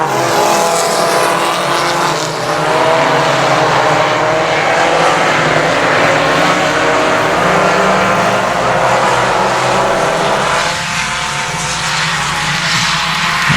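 Race cars roar around the I-37 Speedway oval, several engines running wide together in a loud, continuous, dense howl that swells and dips slightly as the pack passes.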